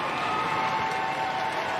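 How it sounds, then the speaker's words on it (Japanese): Crowd in a figure skating arena in Nice at the 2012 World Championships, a steady broadband roar of cheering and applause that holds loud and even, with no clear individual voices standing out. "徐々に歓声が高まります。"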